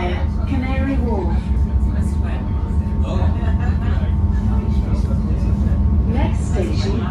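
A London commuter train pulls out of West Drayton station with a steady low rumble and hum, close and continuous, while a voice speaks over it.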